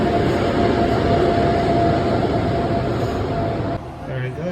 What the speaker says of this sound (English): get on the train. It's an overnight train.